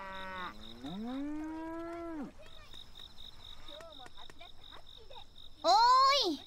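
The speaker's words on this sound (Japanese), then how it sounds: "牛さんだ、こんばんは。" A cow in the video game Crayon Shin-chan: Ora to Hakase no Natsuyasumi moos twice, a long low call and then a shorter one, over a quiet night backdrop of frogs, insects and soft chiming tones.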